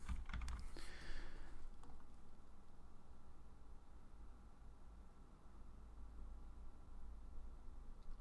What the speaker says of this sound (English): I'll just type in our support email address in right now.